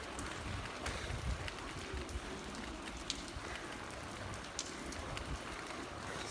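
Rain falls steadily in central Ljubljana during floods, a constant, soft hiss of drops with occasional louder patters and light wind, with no voices.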